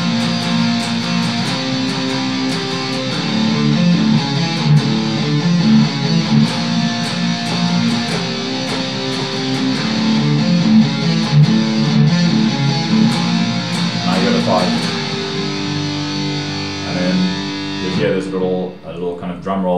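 Distorted electric guitar plays the chorus riff of a song, a loud, dense chugging line that runs steadily and alone before thinning out near the end.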